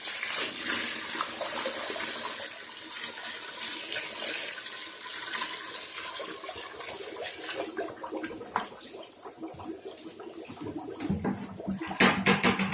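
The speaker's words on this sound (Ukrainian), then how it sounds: "13-14 літрів води." Water poured in a heavy gushing stream onto 20 kg of sugar in a pot to make syrup, a continuous splashing rush with clattering near the end, no talk.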